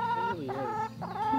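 Backyard chickens cluck and murmur in soft, warbling calls, close and steady with no talk over them.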